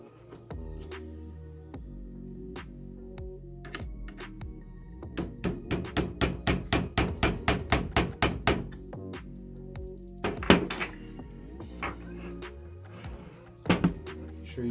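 A part is tapped into an Arcturus AK-12 airsoft gun: scattered sharp clicks and knocks, then a run of about a dozen evenly spaced, close taps, followed by a few louder knocks.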